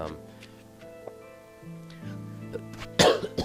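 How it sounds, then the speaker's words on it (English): One sharp cough bursts out near the end, close and loud, after a stretch of steady low tonal hum. "I'm sorry, I had to cough."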